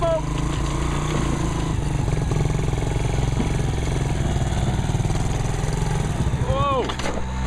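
A two-stroke motorcycle engine runs steadily and loudly close by, with a buzzing, rattling drone throughout and a brief rise and fall in pitch near the end.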